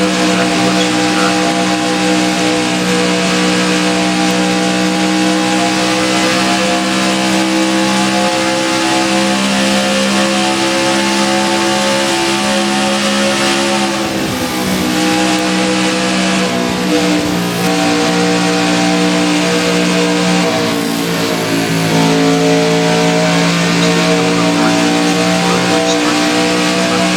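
A race car in the NAPRA Holley HP Cup Can-Am duel at speed on track, its engine screaming at a steady high pitch with brief dips during shifts, loud and close throughout like an onboard recording.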